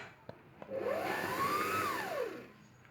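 A Singer Start 1306 sewing machine runs a straight stitch with a rising and falling motor whine that speeds up then slows over about two seconds, after a couple of sharp clicks.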